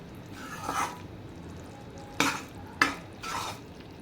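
Melted jaggery bubbles softly in a pan, with a few sharp scrapes and knocks of a spoon stirring it against the metal, close and fairly quiet, no talking.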